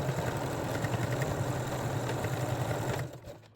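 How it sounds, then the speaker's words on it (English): A sewing machine stitches lingerie fabric forward and backward in a steady, loud motor whir with fast needle chatter, stopping abruptly near the end. "I'm sewing forward, backward and forward again"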